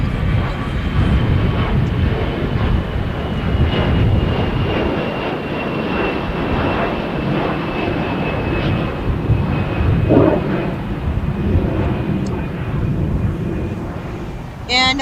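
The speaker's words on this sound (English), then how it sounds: "Aer Lingus from Dublin, Ireland, coming in on an Airbus A330-302" Aer Lingus Airbus A330-302 jet on arrival at LAX from Dublin, a steady loud engine roar holding throughout with a brief whine near the end, no talk in between.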